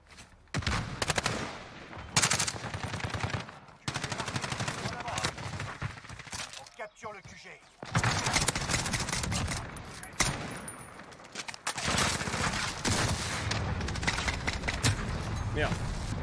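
Gunfire rattles in the Modern Warfare video game on a new map, with rapid automatic bursts and single shots separated by brief pauses, loud and close, while a player speaks in between.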